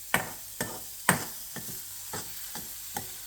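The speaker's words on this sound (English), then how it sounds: "Cook until this garlic turn golden brown" Garlic frying in a pan over a low flame, heard as a quiet steady sizzle broken by about seven sharp scraping stirs, spaced roughly half a second apart.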